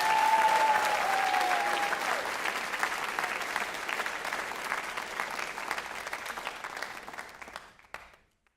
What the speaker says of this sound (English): Let's take all of them a round of applause, would you please?